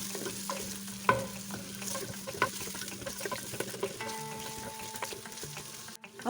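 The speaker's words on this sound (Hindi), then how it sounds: "अब हम इसमें ऐड कर लेंगे प्याज, प्याज की हमने 2 मिनट के लिए बुनाई करनी है" Onions fry on a slow flame for a saag dish, giving a close, steady sizzle with spoon stirring and light scraping throughout, with no voices.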